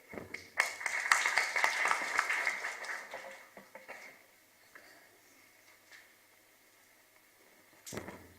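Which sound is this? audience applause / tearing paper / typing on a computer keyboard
audience applause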